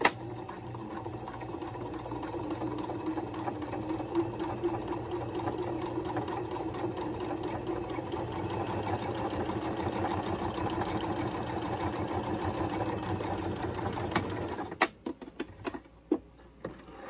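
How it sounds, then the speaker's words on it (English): A home sewing machine stitching a rolled hem along a fold in fabric, a steady fast whirring hum running close and continuous before stopping with a few short clunks at the end. "I'm going to sew as close as I can to this fold right here."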